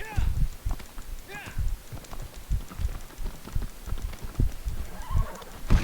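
A horse gallops in Shadow of the Colossus (2018), with quick rhythmic hoofbeats throughout and a couple of whinnies early on, while a voice speaks over it.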